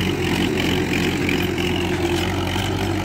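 Forty-five-year-old Mahindra tractor running in a farm field, a steady loud low diesel rumble throughout with no breaks and no talking.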